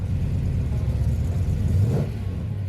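A throaty 302 Ford V8 engine with Edelbrock heads and cam idles with a deep rumble, then revs briefly before settling back to a low, steady growl, at a motor show.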